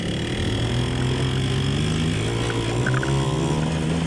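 A scooter engine drones steadily and loudly while riding on a rough, bumpy road in below-freezing weather, a continuous buzzing motor hum with no pauses.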